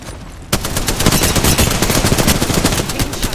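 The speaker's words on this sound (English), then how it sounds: "Taking shots. You're in view of the enemy." Rapid automatic gunfire in the Apex Legends battle royale game: a sharp burst of dense, loud shots that starts about half a second in and keeps rattling steadily to the end, with no talk over it.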